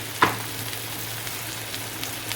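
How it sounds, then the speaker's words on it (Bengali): Onion frying in a pan, a steady close sizzle with one sharp clink near the start, otherwise even hiss throughout and no talking. "পেঁয়াজটা ভাজা হতে থাক"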